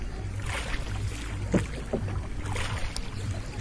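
Rowboat gliding across a clear lake in Dhaka, with soft water lapping and paddle splashes under steady wind and a low engine-like hum, close to the microphone.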